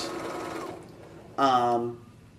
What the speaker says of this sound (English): So then you sew straight